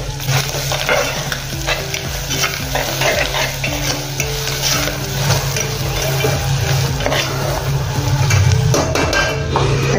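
A spoon stirs red chili powder and ginger-garlic paste into sizzling oil in a cooking pot, with repeated scraping and clinking against the metal over a steady fry for about ten seconds, close and clear.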